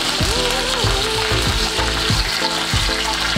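Curry leaves sizzle in hot oil with fried urad dal and garlic just after the stove is switched off, a bright crackling fry heard under a woman's speech.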